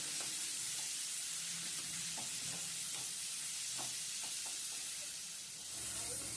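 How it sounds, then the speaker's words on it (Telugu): Tomato pieces fry in hot oil for a coconut chutney, giving a steady broad sizzle with scattered soft pops and occasional stirring clinks, close and continuous throughout. "కొంచెం ఆయిల్ వేడెక్కినాక టమోటా ముక్కలు కట్ చేసి పెట్టుకున్నాం కదా ఆ టమోటా ముక్కలు కూడా వేసేసి టమోటాలు బాగా వేగని చేసి"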